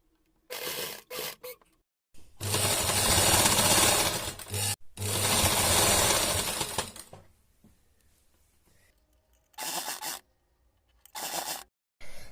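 A sewing machine stitches a newborn baby cap in uneven close bursts: a few quick short runs, then two longer whirring stretches, and finally brief stop-start stitches separated by silence.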